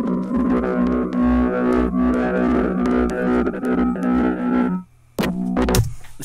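A synth sound played through the Ableton Erosion effect, its sustained tones roughened by gritty, noisy distortion, runs steadily before a brief drop to silence and a short harsh return.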